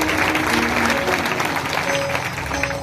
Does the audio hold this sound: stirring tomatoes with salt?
no